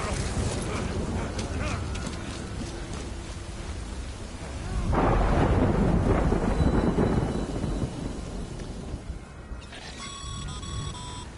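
Steady rain hisses in the video game Death Stranding, then thunder swells into a long, heavy rumble midway before fading back to rain, with a few thin tonal beeps near the end.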